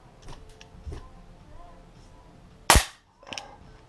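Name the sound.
Artemis CP400 4.5 mm CO2 air pistol firing a pellet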